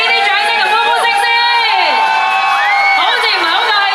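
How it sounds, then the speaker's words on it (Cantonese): A crowd of fans packed into a Malaysian shopping mall cheers and whoops loudly and continuously, shrill voices rising and falling throughout with excited shouts. "後面啲 fans 俾啲掌聲同歡呼聲先"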